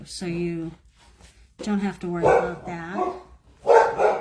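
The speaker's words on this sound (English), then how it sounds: "I apologize for that dog." A dog barks in short, sharp bursts, several loud barks clustered together, with a person talking nearby and partly overlapping the barking.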